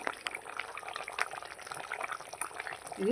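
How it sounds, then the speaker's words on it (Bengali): Bhetki fish head curry with potatoes simmers in a covered pot, giving a steady, soft bubbling and gurgling that stays even throughout, with a brief faint voice near the end. "কত সুন্দর ফুটছে আস্তে আস্তে"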